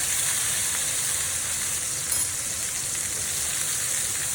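Garlic tossed into a pan of sauce sizzles steadily and evenly throughout, a close, continuous hiss with no voices over it.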